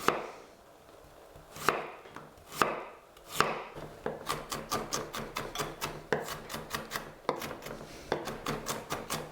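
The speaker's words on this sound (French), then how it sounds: "je vais préparer mon oignon. Je vais le hacher." A knife chopping an onion on a cutting board: a few slow, separate cuts at first, then quick, regular rhythmic chopping, close and crisp with no talking.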